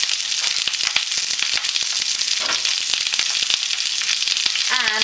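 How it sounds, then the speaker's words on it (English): Sliced ginger, garlic and two red chillies fry in a pan for a Malaysian Eurasian chicken curry, a loud continuous crackling sizzle with sharp spits and pops, close up, with a brief voice-like squeal at the end. "Once you've kind of like fried up some onions and your ginger and garlic"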